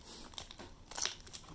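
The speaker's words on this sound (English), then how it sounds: "I kind of just want to rip it open." A Vanguard trading card pack being ripped open, a short, faint burst of crinkling and tearing wrapper close by, with no voices.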